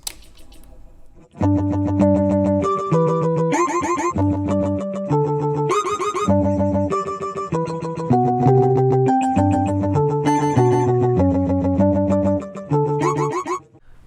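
An electric guitar through a compressor, Sine Chorus, pitch shifter and delay on a Fender Mustang GT amp plays a clean melodic line with shimmering chorus, shifted pitch layers and echoing repeats that trail behind each note.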